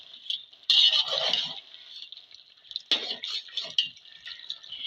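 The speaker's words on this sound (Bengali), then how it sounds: "সামান্য একটু আমার সিক্রেট মশলা ভালো করে একবার নেড়ে দেবো" Spices being stirred into mutton fat in a pan with bottle gourd, close-up scraping and sizzling in two brief bursts over a steady bright frying hiss.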